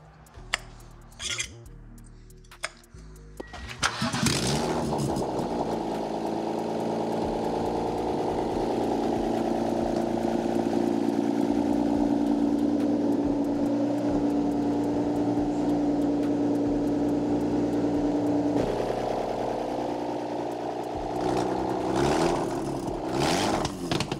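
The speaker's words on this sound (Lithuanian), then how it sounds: "Pabandėm užkurti E36." A turbocharged BMW E36 engine cranks with a few short bursts, then catches and settles into a loud, steady idle with a sustained hum that runs until it shuts off, followed by a few clanks.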